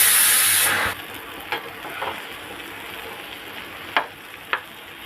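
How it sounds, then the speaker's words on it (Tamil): Yam slices fry in hot oil with a steady close hiss, opening with a louder burst of spitting sizzle that settles into a quieter simmer, broken by a few sharp utensil clicks. "அடுத்த சைடும் ஒரு 2 நிமிஷம் நல்லா வறுபடட்டும்."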